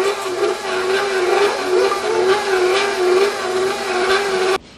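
A stand mixer starts up on low speed mixing flour, giving a loud, steady motor whir with a humming drone that runs for several seconds before cutting off abruptly.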